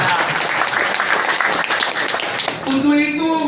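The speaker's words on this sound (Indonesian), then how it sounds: "Tepuk tangan dulu dong." Applause from the crowd at a Pemuda Batak Bersatu gathering in Cinere, Depok: dense, steady clapping filling the room, with voices rising near the end as it fades.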